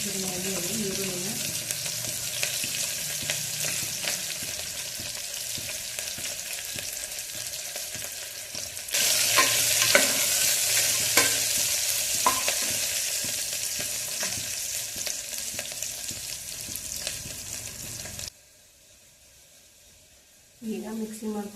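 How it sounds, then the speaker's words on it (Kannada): Onions fry in a pan for pudina rice, with a continuous close sizzle and occasional scraping stirs. The hiss swells louder midway, then briefly drops out near the end before resuming. "ಚೆನ್ನಾಗಿ ಉರಿಬೇಕು ಈರುಳ್ಳಿನ"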